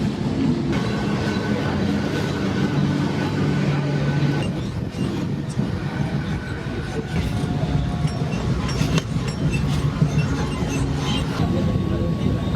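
Steady rumble of a moving suburban train from inside a carriage heading to Virar station, with rattling and clatter throughout and faint voices in the background.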